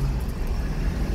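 Heavy, congested road traffic near an airport in the Philippines, heard as a loud, continuous low engine rumble from nearby vehicles with no voices.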